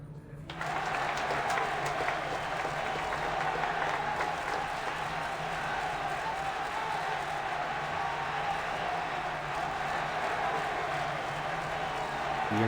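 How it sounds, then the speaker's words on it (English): Sustained crowd applause in the game Reverse: 1999 begins abruptly and continues steadily, a dense wash of many hands clapping with faint cheering mixed in. "The invitees burst into applause"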